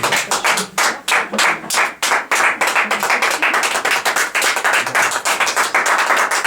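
A church congregation claps in quick, steady rhythm during a Sunday service, loud and close, the sharp hand claps running continuously without voices.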